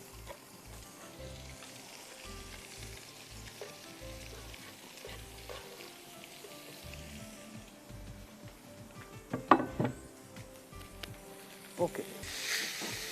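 Onion, garlic, dill and spinach frying in butter give a steady low sizzle with stirring and a few sharper clatters near the end, with faint background music.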